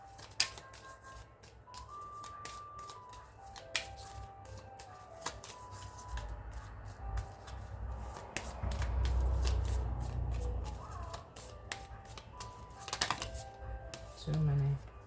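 A hand of cards is shuffled and drawn, with crisp riffling flutters and sharp snaps coming in bursts under quiet talk and soft background music.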